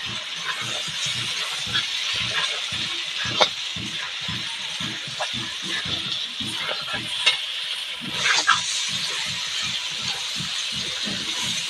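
Steady sizzling of fried potatoes and garlic frying in a hot pan, with a rapid rhythmic scraping pulse of stirring running throughout, no talking.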